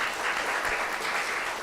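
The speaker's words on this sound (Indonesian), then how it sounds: "Tepuk tangannya mana Bapak Ibu?" Dense, steady applause from an audience at an Atomy MLM leaders' club sharing session fills the whole moment, a continuous wash of many hands clapping with no pauses.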